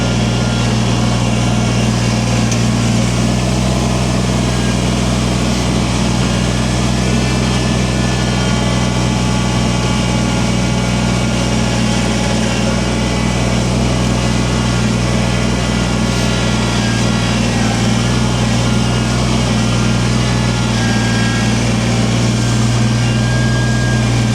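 A tractor engine runs continuously while pushing heavy snow during a snowstorm, a loud, steady low drone with a constant rumble and no break for the whole stretch.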